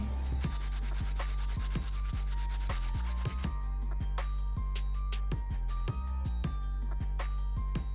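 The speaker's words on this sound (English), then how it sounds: "We'll use our brass bristle brush, like I said, and get those tough stains out." A brass bristle brush scrubbing tough stains on the sole of a Nike Air Yeezy 2 Red October sneaker, close and loud, with rapid rhythmic rasping strokes repeating back and forth steadily, no talk.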